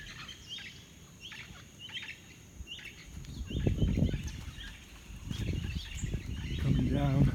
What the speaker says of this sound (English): parrots flying.